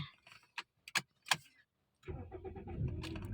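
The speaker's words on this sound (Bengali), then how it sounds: "দেখছেন আমার গাড়িটা কিন্তু স্টার্ট হয়ে গেল" A used car engine starts up: a few sharp clicks and a short pause, then the engine catches and settles into a steady, close idle hum.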